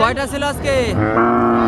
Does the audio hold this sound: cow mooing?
yes